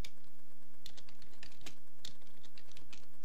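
Rapid keystrokes on a computer keyboard while entering a mount command in DOSBox, a quick irregular run of close, crisp clicks over a steady electrical hum, with no talking.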